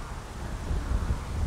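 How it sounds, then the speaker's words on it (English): Strong wind buffets a microphone outdoors in a steady, low roar that swells slightly toward the end, with no other sounds standing out. "the wind out here just got strong a while ago"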